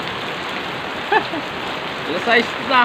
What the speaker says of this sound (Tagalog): Malakas pa rin ang ulan.